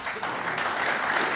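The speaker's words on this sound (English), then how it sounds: "Well, applause" Spectators at the 2018 World Snooker Championship final applaud a shot, a short, steady burst of moderately loud crowd clapping.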